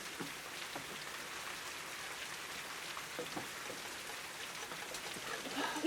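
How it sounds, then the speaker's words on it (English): Steady rain patters on a roof with an even, dense hiss of drops, fairly quiet and constant throughout, with no voices. "It's raining on top of the roof."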